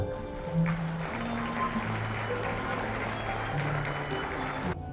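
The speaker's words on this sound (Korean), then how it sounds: "분들께 인사 박수 부탁드립니다" Wedding guests applaud the couple, a steady wash of clapping with a sustained low hum and murmuring voices underneath, cutting off abruptly near the end.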